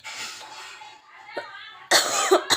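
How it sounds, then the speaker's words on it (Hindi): A woman in a home kitchen coughs a few times close by, with a short throaty burst and then a louder hacking fit at the end. "खांसी भी हो रही"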